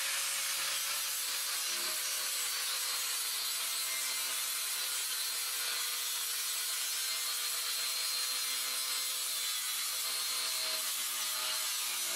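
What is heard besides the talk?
grinder with cutoff blade trimming wire mesh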